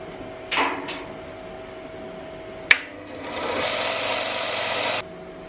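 Welding custom exhaust pipe sections for an RB25DET Nissan Stagea: a few soft knocks and a sharp metallic tap, then a steady crackling, buzzing weld arc for about two seconds, close and fairly loud, with no talk.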